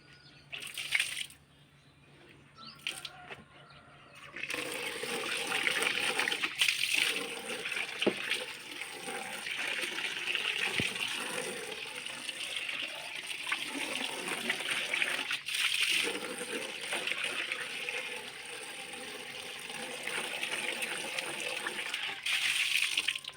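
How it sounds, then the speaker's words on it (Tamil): Running water gushes over a refrigerator box being washed, a continuous close splashing stream after a few brief quieter moments, with occasional knocks of plastic. "நம்ம இப்போ இந்த பாக்ஸை வந்து வாஷ் பண்ண போகிறோம்"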